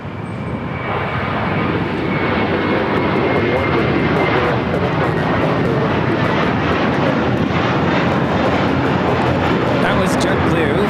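JetBlue Airbus A321 taking off from LAX, a loud, steady, broadband roar of jet engines sustained throughout, close and powerful with no voices over it.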